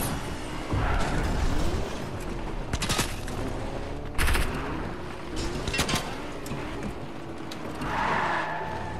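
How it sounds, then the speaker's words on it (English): Fortnite gunfire crackles through a busy mix of in-game mechanical noise and movement, with several sharp shots standing out at moderate loudness amid continuous background clatter. "Shooting."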